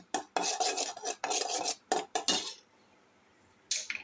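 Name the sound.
caramel being cooked and stirred in a wok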